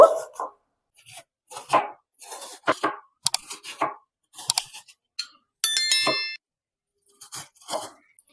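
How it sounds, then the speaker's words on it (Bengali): A knife chops cabbage into thin strips on a board: a string of close, crisp chops in uneven bursts, broken by short pauses and one bright ringing tone midway. "এখানে আমি একটু সরু সরু করে কেটে নেব"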